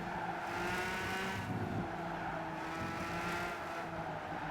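A McLaren F1 in the Gran Turismo 5 racing game accelerates with a steady, loud engine roar that rises in pitch, continuous for several seconds with no break.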